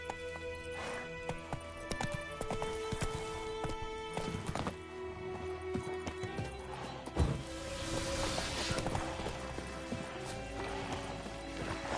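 In The Witcher 3, the horse Roach gallops with rapid, rhythmic hoof clip-clops, close and steady over twelve seconds, with occasional louder thumps and a faint ambient game backdrop.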